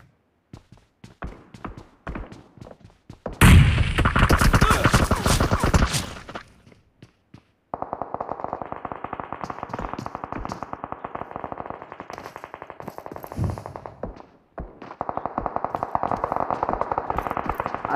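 Explosions and gunfire in the mobile battle royale game BGMI: scattered taps, then a loud blast-like roar, followed by long stretches of rapid automatic fire, with little talk.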